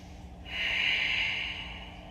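A single slow breath during a gentle yoga session, a soft airy nasal exhale lasting about a second, close and alone over faint room hum.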